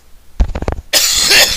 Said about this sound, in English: In a second, I clear my throat.